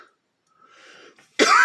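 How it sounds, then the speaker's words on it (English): A single harsh cough bursts out abruptly at the end, preceded by a soft breathy throat sound in a quiet room. "Sorry about the coughing."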